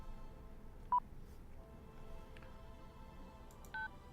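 A phone in the video game Syberia Remastered dials a hotel's number with a few faint, spaced keypad beeps over a quiet background hum.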